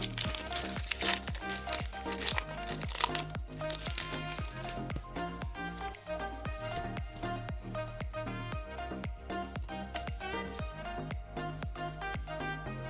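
Pokémon card booster packs from a Pokéball Pikachu and Eevee box, Lost Thunder set, being torn open roughly, giving soft crinkling and tearing of foil wrappers under steady background music.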